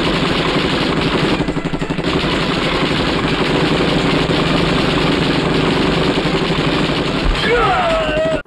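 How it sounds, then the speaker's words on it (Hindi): Rapid machine-gun fire rattles through a Bollywood film action scene, a loud, continuous burst of fast repeating shots over a heavy engine-like rumble, with voices mixed in. "गोलियां चलाई जा रहे हैं"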